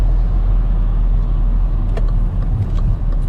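Car driving through a town during a driving test route in Tauragė, Lithuania, turning right at an intersection; a steady engine and road rumble plays close by, with no talking.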